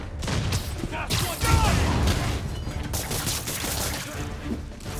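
Homing rockets firing and exploding in a Spider-Man video game during a museum fight, a dense burst of booms and blasts over about five seconds with a person talking over the action.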